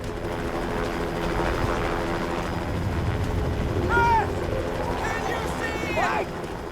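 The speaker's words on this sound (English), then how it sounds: "There was a helicopter that we could hear that was getting closer and closer and closer" A helicopter's steady low rotor drone fills the scene as it flies inside an active volcano crater, with voices and a few whistling tones rising over it partway through.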